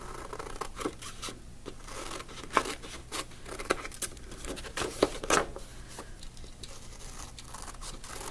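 Scissors snip through paper for a Picasso-Matisse style collage portrait, giving irregular crisp cuts and rustling crinkles close up, with quiet pauses between the snips.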